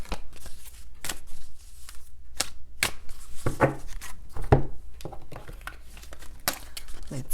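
Tarot cards being shuffled by hand, a series of crisp riffling bursts and soft slaps in irregular rhythm, close up, with brief pauses between.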